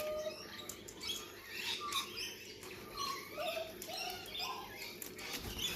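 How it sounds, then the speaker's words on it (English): Corellas and other birds chirp and call near and far, a dense scatter of short tweets and squawks over a steady outdoor background hum. "There's a lot of birds today."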